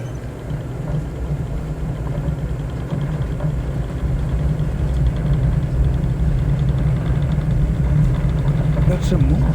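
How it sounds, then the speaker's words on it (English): A light aircraft's engine in Microsoft Flight Simulator 2024, flying near Copenhagen, drones steadily as power is added, its low hum growing a little louder and fuller partway through. "let's get some power to the engine"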